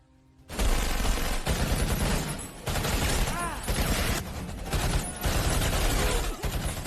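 Dense gunfire from the action film Triple Threat bursts in suddenly and continues as loud, sustained volleys of rapid shots, with short gaps between bursts and sharp mechanical clatter throughout.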